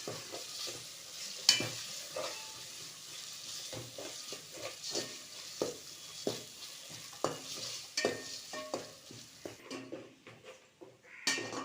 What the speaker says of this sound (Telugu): బాగా వేయాలి బాగా ఫ్రై అవ్వాలి అల్లం వేయాలి